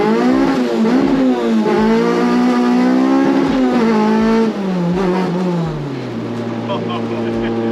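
A modified Honda Civic hatchback with very short gearing accelerates hard, engine note climbing and dropping through quick gear changes, loud and close inside the cabin, with people talking over it.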